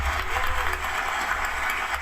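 An audience at a video game presentation for Marathon claps in a brief, steady burst of applause that sounds full and fairly close throughout.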